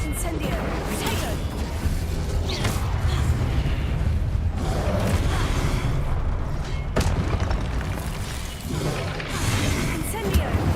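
Spell blasts and explosions from Hogwarts Legacy, including Incendio and Confringo, boom and whoosh in a dense, continuous stream of rumbling impacts, with a person talking over the combat.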